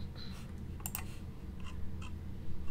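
Light clicking keystrokes on a computer keyboard while writing game code, a few scattered taps and short bursts over a steady low room hum.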